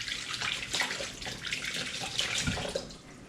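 Tap water splashes steadily into a sink as a pan is rinsed while cooking butter chicken, a close, continuous gush with shifting spatter, easing off slightly at the end.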